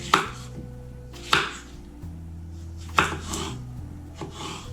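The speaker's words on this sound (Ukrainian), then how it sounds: "Нарізаю їх ось такими брусочками." A knife chops young zucchini into sticks on a cutting board, with four or five sharp strokes spaced about a second apart over a low background hum.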